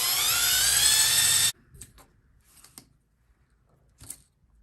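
Abrasive filing on an oversized Ronstan plug being reduced in diameter, a loud steady rasping burst for about a second and a half, then stopping, followed by a few faint scattered scrapes and taps.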